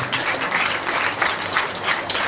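Members of a crowd at an AWPL direct-selling meeting clap for themselves, a full, lively burst of applause with slight swells in intensity throughout.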